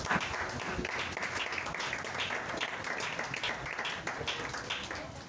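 A church congregation applauding together, steady dense clapping that continues evenly throughout without pause.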